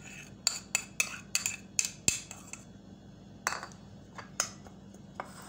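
A utensil scrapes and clinks against a bowl while coleslaw of shredded cabbage, carrot and mayonnaise is mixed by hand, in a run of about a dozen quick, close taps that bunch together at first, then come more sparsely.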